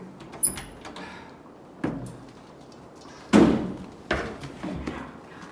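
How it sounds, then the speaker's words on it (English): A door opens and closes in a room, giving several separate thumps and knocks spread across a few seconds, with one louder bang near the middle. "There's a door here."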